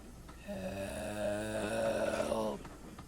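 A voice imitates a railway coach in a children's story waking with a startled snore, one long drawn-out rasping snore lasting about two seconds, close and alone.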